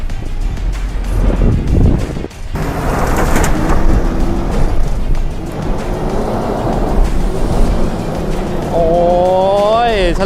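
A lifted budget pickup truck reverses down an off-road hill track, its engine droning loud and close through strong wind buffeting, and the engine note rises and wavers near the end.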